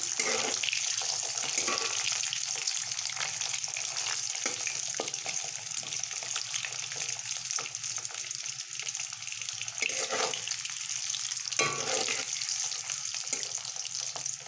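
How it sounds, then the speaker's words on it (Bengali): Eggs frying in oil for egg curry until reddish-brown, giving a steady moderate sizzle and crackle with occasional stirring scrapes, no speech. "ডিমটাকে বেশ লাল লাল করে ভেজে নেব"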